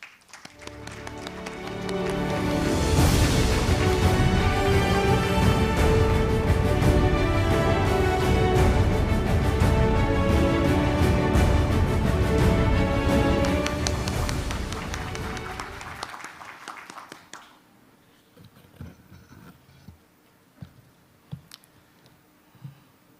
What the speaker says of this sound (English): let's welcome the Minister with a big round of applause onto the stage